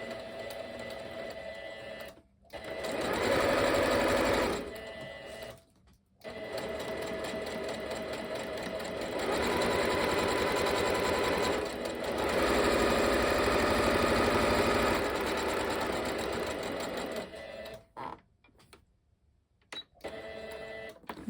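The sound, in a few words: sewing machine stitching a scrappy needle pouch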